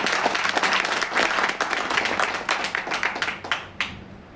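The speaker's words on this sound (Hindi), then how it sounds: "जोरदार तालियां होनी चाहिए" Enthusiastic applause fills a business presentation hall, dense overlapping claps rising and falling in bursts for several seconds, close and loud with no talk over it.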